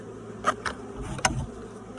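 Honey bees buzzing around an open hive during feeding, several short close buzzes as individual bees fly past, over a quiet background.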